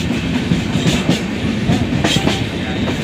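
Passenger train rolling steadily on rails as it nears Udhampur station on the Lucknow to Katra route, with a continuous loud rumble and rhythmic clickety-clack of wheels over rail joints, no voices.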